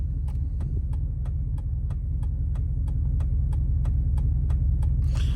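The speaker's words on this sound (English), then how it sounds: "We're going to go ahead and drive another half mile and see where we're at." Steady low engine rumble and road noise from inside a moving car, with a regular ticking, likely a turn signal, repeating throughout at close range and no talking.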